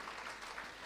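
A congregation at a Christian worship service claps in thanks, a soft, distant patter of many hands that stays low and even.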